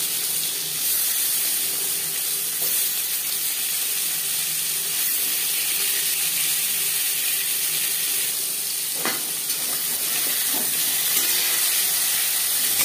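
Pangas fish frying in a little hot refined oil makes a steady, close hissing sizzle, even and continuous with a few soft clicks and pops and no talking.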